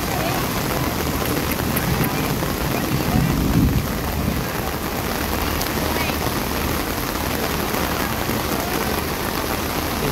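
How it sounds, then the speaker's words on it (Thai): Heavy rain pours down at an outdoor mor lam concert stage, a dense, steady roar of drops drumming on surfaces with a low rumble underneath, loud and unbroken throughout. "ฝนตกหนักเลย"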